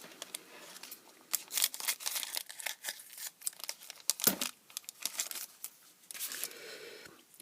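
Scissors cut into a plastic packet holding a disposable spring-loaded earring piercer, producing close, irregular crinkling, snips and tearing crackles in uneven bursts with brief pauses and no speech.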